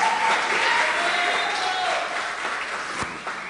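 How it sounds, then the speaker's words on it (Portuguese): A room of people clapping for Alexandre, a steady burst of applause that stays full and then tapers slightly, with a few voices mixed in. "Palmas para o Alexandre."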